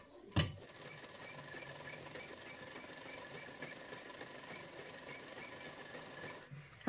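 A sewing machine stitches a blouse hem in a steady, even run of fast mechanical clatter that carries on for several seconds after a sharp click at the start, up close and without voices.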